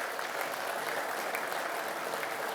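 Audience applause fills a hall at a departmental general assembly in Ardèche, a steady, dense wash of clapping that stays even and continuous from start to finish with no voices over it.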